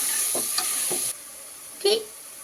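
Greens sautéing in a pan with turmeric powder, a close hiss of frying with a few spatula scrapes, the sizzle dropping away midway before a brief stir returns.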